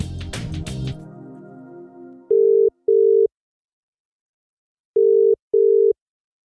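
A telephone ringback tone on a call waiting to be answered during a radio broadcast: two pairs of loud, steady double rings separated by a silent gap, following a brief burst of noise at the start.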